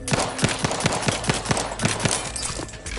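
Rapid automatic gunfire in The Outer Worlds 2, a dense run of sharp, loud shots in quick succession filling the whole stretch, with no voices over it.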